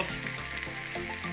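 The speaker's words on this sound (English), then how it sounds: "you will need to cut 2 onions and fry them for a while" Chopped onions frying in a pan for meatball sauce give a dense, close, continuous sizzle with no talking.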